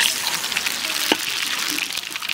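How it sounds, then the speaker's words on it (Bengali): Whole cumin seeds and bay leaf temper in hot oil left over from frying fish, a loud, continuous crackling sizzle with one brief sharper pop partway through and no talking. "ফোড়নে নিছি গোটা জিরে"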